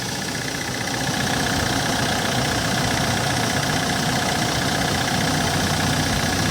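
A Hyundai Porter Super Cargo with a CRDI diesel engine idles steadily with the hood open, giving a close, even low rumble with a light mechanical clatter and no talk.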